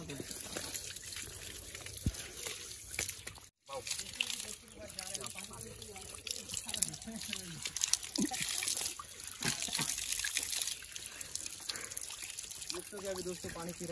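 Tap water running steadily at a Durga puja pandal outside a Shiv temple in Daspara, a continuous trickling gush with crowd murmur and voices in the background throughout.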